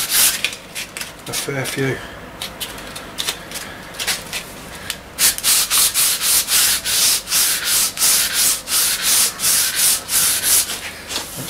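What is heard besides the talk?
sanding a wooden snooker cue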